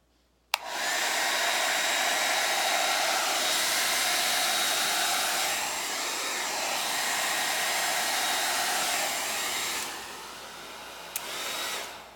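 A hair dryer blows over wet acrylic paint in fluid art pouring, switching on abruptly and running as a loud, steady whooshing roar with slight shifts in tone before easing near the end.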